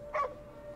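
A single short dog bark or yip rings out clearly in the video game Ghostwire: Tokyo, a brief close sound over a quiet, faintly humming background.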